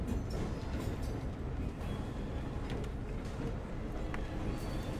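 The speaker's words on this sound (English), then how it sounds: "Train rolling by." Train rolling past in a video game, heard as a continuous low rumble and clatter at an even level for the whole stretch.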